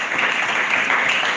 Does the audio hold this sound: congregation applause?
yes